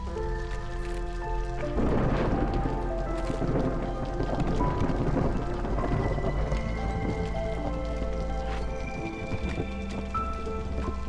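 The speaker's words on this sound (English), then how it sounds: "Storm is coming." Steady rainstorm in the video game Against the Storm, dense constant patter of rain with low rumbling and layered musical tones, continuous and fairly loud throughout with no talk.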